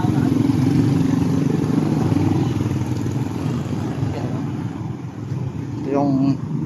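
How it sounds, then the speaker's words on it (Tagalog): Steady engine drone and passing vehicle traffic on a city street, a continuous close rumble with a brief horn-like tone near the end, heard while walking. "lahat ng ingay ng makina, lahat ng ingay ng sasakyan"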